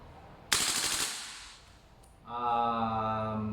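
A VFC SR-16 E3 MOD2 CQB airsoft gas blowback rifle fires one short full-auto burst of rapid clattering shots, loud and close. A fading hiss follows, then a steady low hum.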